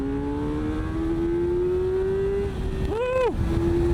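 A 2026 Kawasaki Ninja ZX-6R 600 engine winds steadily upward in pitch for a couple of seconds under riding wind, then drops sharply as the rider shifts or rolls off the throttle.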